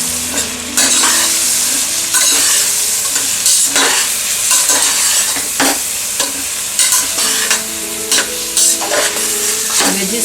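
Mixed vegetables fry in a pan with a steady sizzle as a spoon stirs and scrapes them in repeated, clattering bursts, close and loud.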